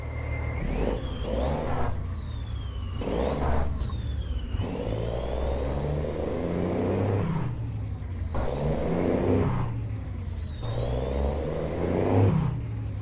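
A custom Freightliner XL Classic sleeper truck's engine revs in repeated swells, each climbing in pitch and then dropping back, loud and close with a gritty diesel rumble and no voices.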